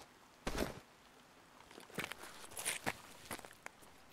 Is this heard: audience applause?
no